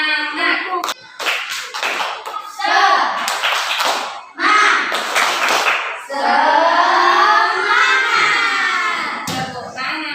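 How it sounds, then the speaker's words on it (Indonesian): A primary school class performs the rhythmic Indonesian spirit clap in a classroom, with loud patterned group clapping in bursts mixed with children's chanting and shouted voices and a teacher speaking. "kita melakukan apa? Tepuk semangat."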